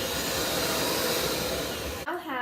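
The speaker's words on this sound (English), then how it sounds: "We beat to firm peaks with a mixer on high speed." An electric mixer runs on high speed, beating a dark chocolate pie topping to firm peaks. A loud, steady whir fills the clip, then cuts off abruptly just before the end.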